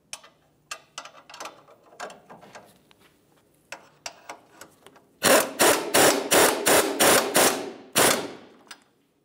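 A ratchet torque wrench tightens the lower control arm bolts on the front driver side of a 2002-2007 vehicle: soft scattered clicks at first, then a loud close run of about eight rapid ratcheting bursts, with no talking.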